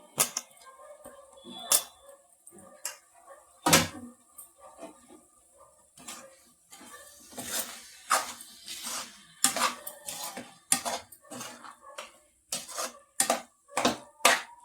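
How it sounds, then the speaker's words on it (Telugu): Tomato pieces are dropped into a pot of chicken curry, with a string of sharp clinks and knocks of a metal spoon against the pot, irregular and close, with quiet gaps between them. "ఇప్పుడు ఈ టమాటో ముక్కలను కూడా వేసేద్దామండి"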